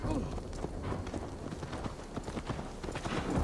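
Rhythmic clip-clop of horse hooves trotting at a steady pace in a video game, with a voice speaking briefly over the hoofbeats.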